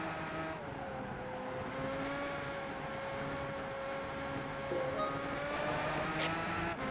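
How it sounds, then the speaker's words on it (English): A race car engine in the Gran Turismo 5 video game hums at high speed with a faint, steady, slightly rising tone that carries throughout. "Then just flooring it to go even faster."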